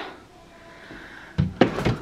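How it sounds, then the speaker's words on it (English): A wooden wardrobe door gives way, with quiet room tone followed by a sharp knock and two more heavy thuds and clatters in quick succession, close by, with no speech. "the door just fell off the wardrobe"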